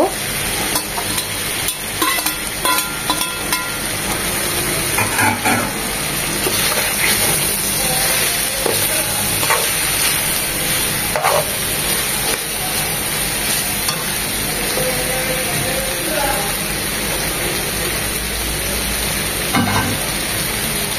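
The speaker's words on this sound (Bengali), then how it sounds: "এখন আমরা মাছগুলো দিয়ে দিব, মাথাটা দিয়ে দেব।" Bitter gourd frying with hilsa fish head in a pan gives a steady, loud sizzle and hiss throughout, with occasional stirring scrapes and no talk.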